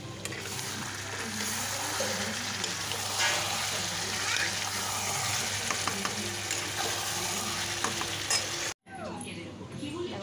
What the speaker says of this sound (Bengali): আর এখানে দেখো আমার মাংস কিন্তু হচ্ছে।